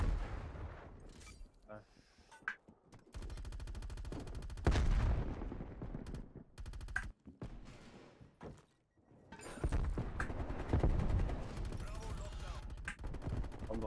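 Rapid gunfire bursts and heavy single shots crack through Call of Duty Black Ops Cold War multiplayer, loud and close, in irregular volleys with short gaps and someone talking over parts of it.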